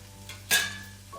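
Onions hitting a hot pan for beef sliders, a sudden close burst of sizzling that fades to a quieter steady fry, with a faint utensil clink.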